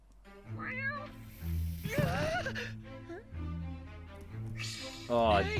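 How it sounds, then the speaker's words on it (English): A cat meows repeatedly in an anime episode, several drawn-out rising and falling cries of fairly loud, close meowing, with a few pauses and a longer wail near the end. "A cat! A stupid little cat!"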